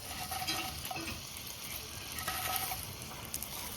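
Fried pabda fish added to a simmering potato curry over a village wood fire, with a steady bubbling sizzle and a few soft stirring clinks, moderately quiet.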